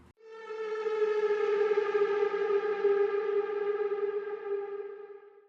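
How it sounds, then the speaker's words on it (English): A steady, loud siren tone holds for several seconds with a harsh buzzing edge, then slowly fades at the end. "I got this siren out of Splice"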